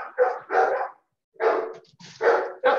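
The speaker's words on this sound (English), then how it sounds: "The dog speaking for us." Dog barking in a short series of loud, close yaps and barks with a brief pause midway, heard during a virtual Groton town Historic District Commission meeting.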